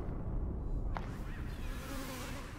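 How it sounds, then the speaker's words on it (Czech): A fly buzzes in the horror game Bad Dreams, a thin, close whine over a dense, murky game soundtrack, with a short swoosh near the middle. "Další moucha."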